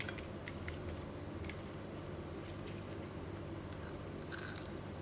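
Crunching bites into crispy KFC-style fried potatoes made at home, a steady run of close, dry crackling and crisp snaps with no talking.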